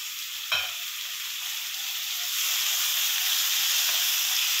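Chopped tomatoes tipped into a hot frying pan with a sharp clatter, then a steady close sizzle and hiss as they cook, growing slightly louder, with a faint second scrape of stirring.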